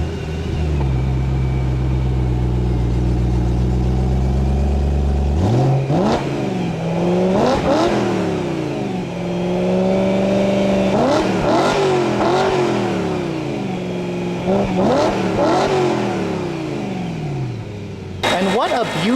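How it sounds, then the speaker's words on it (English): The 4-liter high-revving V8 of a 2011 BMW M3 sits at idle, then blips repeatedly into sharp, loud revs that rise and fall, with a final burst near the end, heard close up with no talking. "This is the M3's 4-liter high-revving V8 engine."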